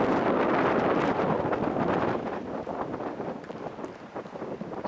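Wind blowing through the Old Oregon Trail Cemetery in Huntington, Oregon, buffeting the microphone as a steady, rushing roar that eases slightly partway through, with no voices.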